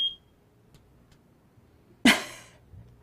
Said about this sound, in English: Hate that buzzer.